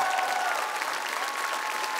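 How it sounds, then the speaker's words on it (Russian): A studio audience at a televised children's talent show claps steadily, a dense, even wash of applause that carries on throughout at a fairly loud level. "Аплодисменты замечательным детям."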